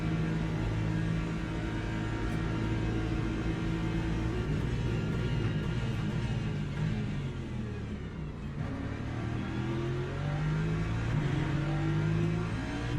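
Revving engine of a GT3 race car in a sim racing game, droning steadily with pitch climbing through gear shifts, a brief dip near the middle, continuous and fairly quiet.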